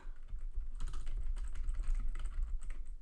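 Steady typing on a newly adjusted computer keyboard during a coding session, a dense run of clicking keystrokes over roughly three seconds, close and fairly loud with a low hum beneath and no voice.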